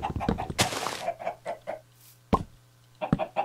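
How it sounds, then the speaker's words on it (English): Chickens in the Minecraft video game cluck in a series of short, quiet clucks, joined by a few sharp thumps and plops, at low volume against a steady faint background hum. "Struggling here with these chickens."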